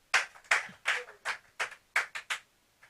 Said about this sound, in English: Please clap better for Jesus.